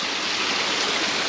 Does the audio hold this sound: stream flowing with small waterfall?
yes